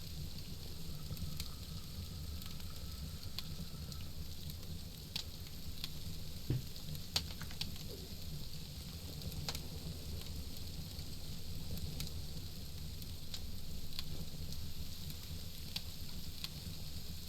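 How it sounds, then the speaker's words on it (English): Steady, soft sizzling of meat frying in the video game SCUM, a constant crackling hiss with occasional faint clicks and pops. "Oh yeah, I hear it sizzling really good now."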